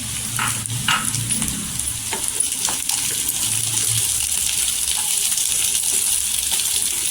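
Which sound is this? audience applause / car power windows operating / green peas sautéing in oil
green peas sautéing in oil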